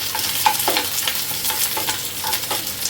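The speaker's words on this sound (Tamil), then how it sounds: "10 சின்ன வெங்காயம், ஒரு பூண்டு, முழு பூண்டு, ஒரு 10 காஞ்ச மிளகாய், ஒரு சின்ன துண்டு புளி, நல்லா வதக்கிக்கோங்க." Shallots, garlic, dried red chillies and a piece of tamarind sauté in a hot pan for chutney, a steady close sizzle with light scraping stirs recurring every half second or so.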